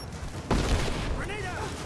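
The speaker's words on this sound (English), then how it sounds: "Throwing a grenade!" A grenade goes off in the video game Rise of the Tomb Raider: one sharp blast at about half a second, then a rumbling, gunfire-like tail under game chatter and other effects.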